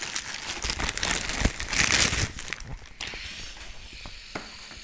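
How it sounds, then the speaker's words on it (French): Packaging of an Intel NUC mini PC being opened one-handed, with close crinkling and rustling of plastic and cardboard that is busiest early on and then thins to scattered handling noises. "Je vais essayer de vous le déballer avec une seule main."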